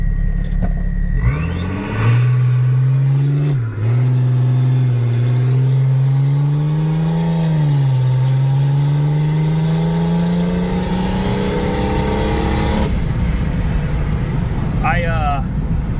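A Jeep JKU with a swapped M57 diesel engine accelerating hard from a stop, the engine note rising through gear changes with a brief dip, loud and close from inside the cab, then easing off.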